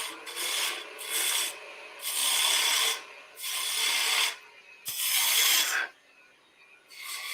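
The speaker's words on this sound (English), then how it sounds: "we'll do some spindle gouge work" Spindle gouge cutting a wood blank on a lathe: a run of loud, bright rasping passes about a second each, separated by short pauses, close by and with no talk.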